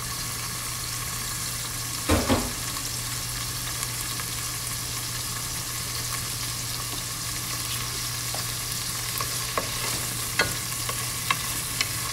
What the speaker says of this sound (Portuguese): Vamos dar uma rápida refogada aqui.